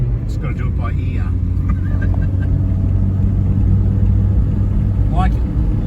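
A Hyundai Excel with 67,000 original kilometres runs through the gears, its engine humming steadily at close range and rising in revs. Muffled voices sit faintly over the drone.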